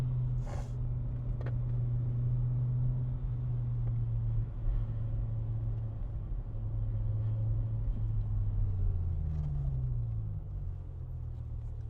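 A V10 car engine drones steadily with a deep, low exhaust rumble, its pitch rising and falling as it pulls past, loud and continuous with no voices.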